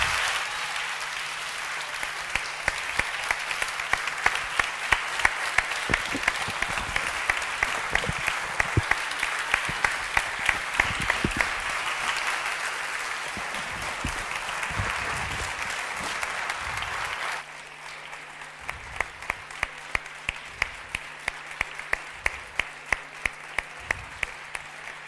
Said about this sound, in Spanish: Fuerte aplauso para Antonio Muñoz Molina.